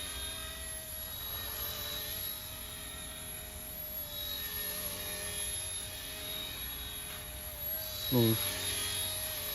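A Bell 206 micro RC helicopter flies close by with a steady high-pitched motor and rotor whine, while someone talks over it throughout.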